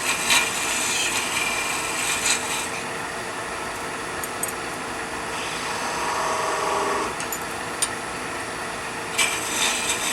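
A wood lathe takes light cuts while turning a finial, a continuous scraping hiss of tool on spinning wood with brief sharper scratches at the start and end, steady and close.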